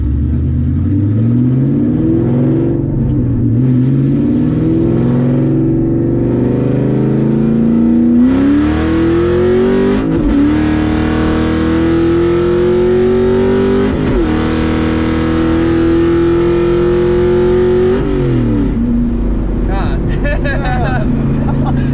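A cammed Ford Mustang GT on a 150-shot of nitrous roars hard through the gears, its engine note climbing steadily with brief dips at each shift, loud and close throughout, as heard from inside the car.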